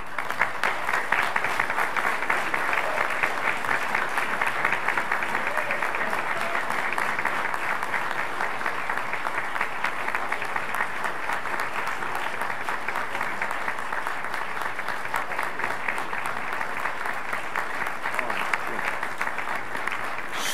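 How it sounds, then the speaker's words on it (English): Sustained applause from a standing church congregation at a Baptist service, dense and steady for about twenty seconds with no pause or voice breaking through. "Let's all stand, give them a big round of applause."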